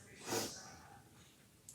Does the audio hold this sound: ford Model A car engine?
no